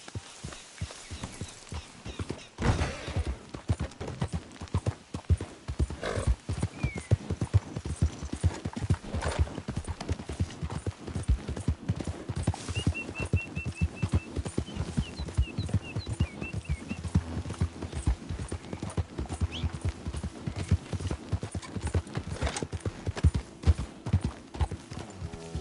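Horse hooves clip-clop steadily at a gallop in Red Dead Redemption 2 on PS4, a continuous rhythmic beat running the whole stretch with occasional faint snorts and little else over it.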